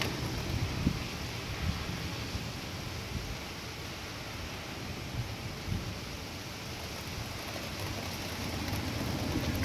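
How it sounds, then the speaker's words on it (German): Hail stones of about 2–3 cm pelt down during a thunderstorm near Wismar in Mecklenburg, a dense, steady roar of impacts mixed with wind rumble and occasional heavier thuds. "Jetzt kommt großmäßig Hagel runter."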